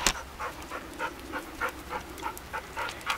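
Several dogs panting outdoors, a steady quick rhythm of breathy huffs close by, continuing evenly throughout with no talking.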